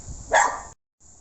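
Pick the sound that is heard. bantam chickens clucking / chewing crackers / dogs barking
dogs barking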